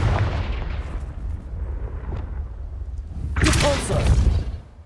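Confringo spell blast in Hogwarts Legacy: game rumble and magic effects build, then a loud burst of explosive crackle and impact near the end, with a voice calling out spells over it.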